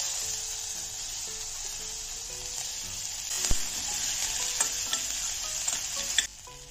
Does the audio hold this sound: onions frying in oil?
yes